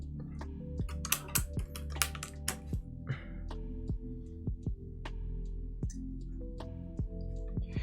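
Mechanical keyboard keys on a Wyvern prototype are pressed one at a time while the stabilizer is tested, sharp individual clacks spaced irregularly over a steady low hum.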